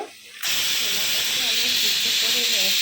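A pressure cooker of boiling chickpeas releases steam in a loud, continuous hiss that bursts in abruptly after a brief quiet moment and holds steady, close and strong.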